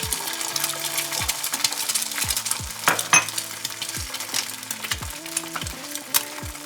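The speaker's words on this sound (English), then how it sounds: "now we're gonna fry the egg" An egg seasoned with salt and pepper frying in a pan, a busy crackling sizzle with repeated clinks and taps of a utensil against the pan, close up, for huevos rancheros.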